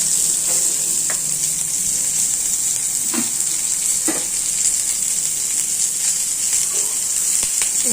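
Crushed garlic sautéing in hot oil while tempering for a radish sambar, a steady close sizzle with a few soft stirring scrapes and knocks.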